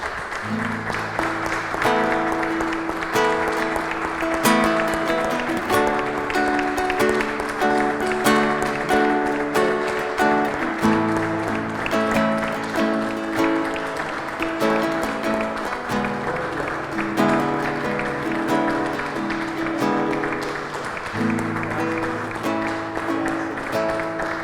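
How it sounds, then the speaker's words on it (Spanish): Sustained applause from a church congregation runs throughout, mixed with loud music carrying a steady melody over it. "le damos un fuerte aplauso al Rey de Reyes"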